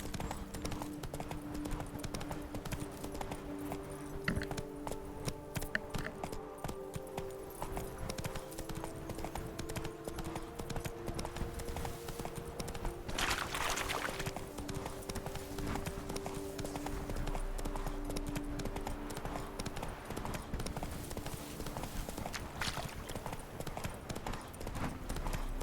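Horse hooves trot in a steady clip-clop rhythm in the video game Witcher 3: Blood and Wine, a moderately loud continuous gait with faint ambient clatter around it.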